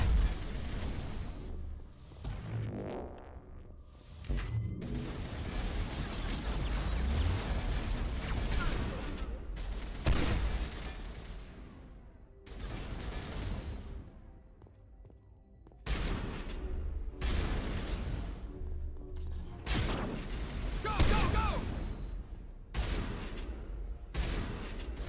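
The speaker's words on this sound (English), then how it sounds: "Just keep throwing him around with the freaking heavy rounds of the shotgun." Heavy shotgun blasts from the sci-fi shooter Mass Effect, a run of loud booming bursts with brief gaps between volleys, mixed with in-game combat noise and a voice talking over parts of it.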